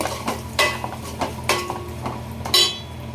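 Yogurt is stirred into a mutton biryani mixture in a pot. A spoon scrapes and knocks against the metal pot in regular strokes about every half second, close and clear, with a faint sizzle underneath.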